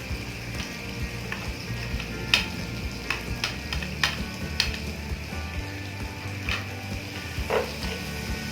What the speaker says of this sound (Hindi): अब इसमें अदरक लहसुन का पेस्ट डाल रहा हूँ।